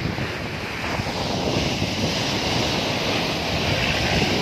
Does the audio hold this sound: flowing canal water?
yes